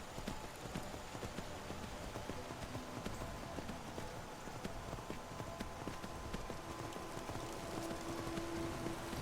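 Horse hooves clip-clop at a steady trot as a rider heads toward a gate in Skyrim, a quiet, even rhythm under faint ambient background with no voices.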